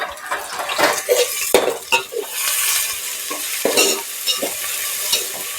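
Mixed vegetables and tomato roasting in a pan for a Maharashtrian rassa bhaji, with a utensil scraping and stirring in irregular bursts over a steady sizzle and occasional clinks of metal.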